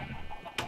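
Chickens on a Sky Factory 2 Minecraft farm give a short burst of clucking near the end, over a steady low game-ambience hum.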